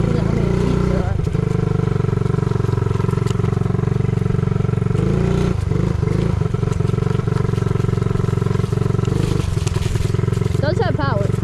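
A friend's small mini bike engine drones loudly and steadily up close along a leaf-covered trail, with a constant buzzing tone that shifts slightly in pitch as the rider moves.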